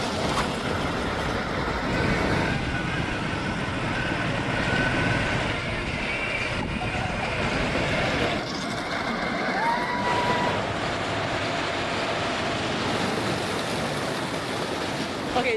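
A wooden roller coaster at an amusement park beside the water, cars rumbling and clattering along the track in a continuous loud roar with shifting intensity, heard from close by with faint voices.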